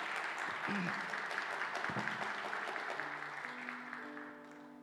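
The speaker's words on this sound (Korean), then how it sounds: "여러분 박수로 환영해 주시면 감사하겠습니다" Applause from a church congregation at a baptism service, steady clapping with a few faint voices, fading slightly toward the end as an organ or keyboard tone begins.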